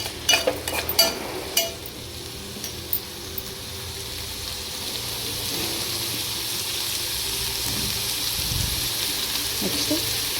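Turmeric stirred into onions frying in a pan: a few scraping clatters of the spoon at the start, then a steady soft sizzle of hot oil continuing alone, fairly faint.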